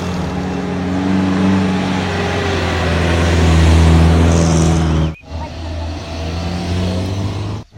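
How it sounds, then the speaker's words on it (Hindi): Road traffic in Bagh, Azad Kashmir, with vehicles driven hard past the listener: loud, close engine rumble and roar that swells, drops out briefly, then returns. "देख सकते हैं किस कदर खूबसूरत जो है वो ये ट्रैफिक है"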